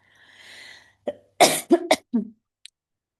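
A soft throat-clearing sound comes first, then several close coughs in quick succession, fairly quiet and dry, ending in silence.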